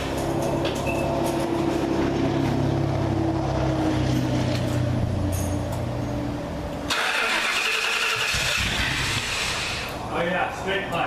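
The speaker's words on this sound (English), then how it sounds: "First start up on this car." A 2002/1998 Mustang GT with a swapped engine and straight pipes fires up for the first time, a loud, rough rumbling crank and start that runs steadily close by, then changes character partway as the idle settles.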